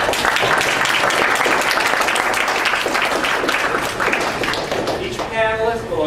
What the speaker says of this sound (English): let's give all our panel a nice round of applause